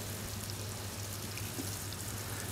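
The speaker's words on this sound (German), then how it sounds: "Das bratet jetzt auch ganz langsam an, einfach frisch, nicht zu lang. Richtig mit Butter nur anbraten" Chanterelle mushrooms frying slowly in butter in a pan, a dense continuous crackling sizzle at steady volume with no talking.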